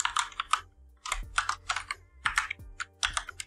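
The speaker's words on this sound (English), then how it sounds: "I will open the quotes and type ul." Code is typed on a computer keyboard in Visual Studio Code: short bursts of crisp, close key clicks with brief pauses between the runs.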